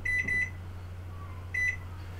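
A kitchen timer is set for a cooking session, giving a quick burst of four sharp electronic beeps, a pause, then another short beep pair, all close over a low background hum.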